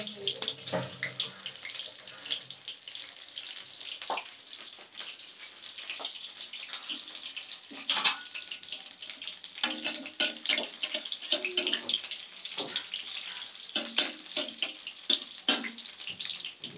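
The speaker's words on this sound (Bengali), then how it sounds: "একটু বেশি বেশি তেলে ফ্রাই করছি" Cauliflower pakora fry in a generous amount of hot oil, making a steady, close bubbling sizzle with scattered crackles that grow busier toward the end.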